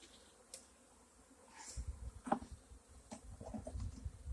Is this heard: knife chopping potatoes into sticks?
no